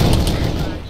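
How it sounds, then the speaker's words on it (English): Loud gunfire at a BTR in the video game Arma 3, a dense burst of rapid shots that fills the whole second. "I'm firing the BTR right now."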